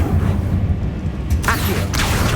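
A Confringo blast spell explodes in the Hogwarts Legacy video game, a couple of bright bursts cutting through a steady low rumble of battle.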